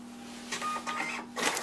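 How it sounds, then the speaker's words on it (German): A thermal label printer feeding and printing a label, a soft mechanical whir in several short bursts over a steady electrical hum, close and fairly quiet. "das ist also jetzt der Thermodrucker und, so. Und jetzt gehe ich auf Drucken."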